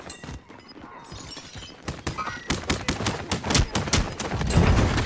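Gunfire in a fists-only battle royale video game match, starting as scattered cracks and building into rapid, loud repeated shots that get heavier toward the end.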